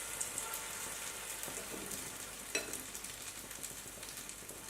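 Steady crackling sizzle of sweet potato tempura frying in hot oil, a dense hiss with small pops throughout.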